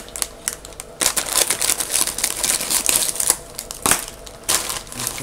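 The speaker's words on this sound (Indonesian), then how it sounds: "Ambil gunting dulu." Scissors snip and crinkle open a plastic potato waffle snack package in a string of loud, close, irregular cuts and rustles, with short pauses between them.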